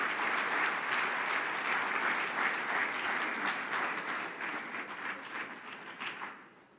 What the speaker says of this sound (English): I think we should end this session with a round of applause for Mr.